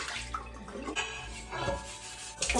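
Running water splashes and trickles as cans and bottles are rinsed at a sink, with irregular close-up splashes, drips and light knocks of the containers.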